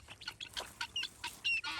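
A young chick chirps in a series of short, high peeps, faint and close together, with no talking over them.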